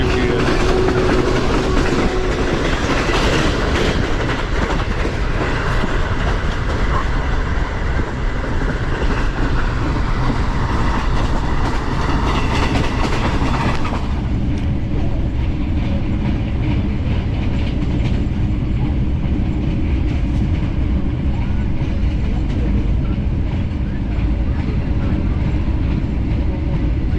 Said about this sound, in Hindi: ट्रेन हमारी मुरीद के रेलवे स्टेशन से पास थ्रू हो रही है